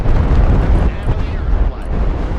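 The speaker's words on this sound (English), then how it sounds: "Strike successful. Airstrike complete." Airstrike explosions in a video game, loud, close rumbling blasts with deep low-end roar filling the moment.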